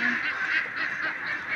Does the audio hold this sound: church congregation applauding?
no